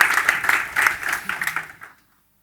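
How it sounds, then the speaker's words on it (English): An audience gives a short burst of clapping for the panelists at a brand council round table, loud at first, then thinning out and stopping after about two seconds. "So round of applause for our panelists and Britta Ngobo, our panelist lead from Goo"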